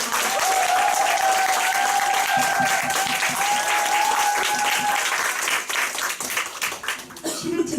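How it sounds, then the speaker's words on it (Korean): Sustained applause from a large audience, dense and steady for several seconds before tapering off near the end, with a faint tonal hum running underneath. "큰 박수 부탁드립니다"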